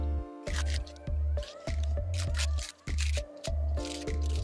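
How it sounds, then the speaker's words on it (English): A detangling brush drags through hair in repeated strokes, each pass giving a crackly, squeaky plastic rasp with a thin, cheap-sounding snap, close up and fairly loud with brief pauses between pulls. "Do not like the sound that this makes. It sounds like cheap plastic."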